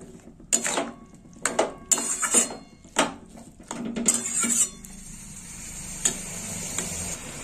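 Spoon clatters and scrapes against a pot while drumstick flower curry is stirred, with a run of loud, irregular clinks in the first few seconds and then a quieter simmer and the odd tap.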